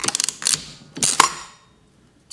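A Standard Metal Typer mechanism is pulled and operated, giving a rapid run of metallic clicks and ratcheting clacks in two bursts, close up, then falling silent.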